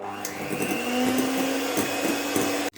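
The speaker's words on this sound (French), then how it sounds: "Toujours au mixeur." An electric mixer beats eggs for a chocolate bavarois with a steady, loud motor whine that holds throughout and then cuts off abruptly at the end.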